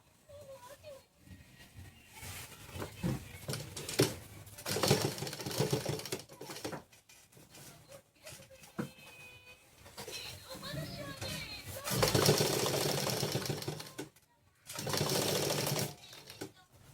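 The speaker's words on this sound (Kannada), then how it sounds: "ಇಲ್ಲಿ ತನಕ ಅಷ್ಟ ಹೊಲಿಗೆ ಹಾಕಬೇಕು ಈ ಥರ" A sewing machine stitches a simple collar in loud, steady bursts of rapid mechanical whirring that start and stop repeatedly, with someone speaking in between and children's voices faintly in the background.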